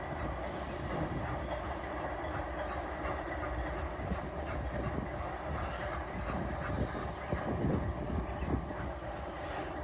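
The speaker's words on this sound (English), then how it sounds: "Yeah, you can see this is a big old freight train." A long double-stacked freight train rumbles past at a steady distance, a constant rolling roar with faint clickety-clack of wheels over rail joints and no talking.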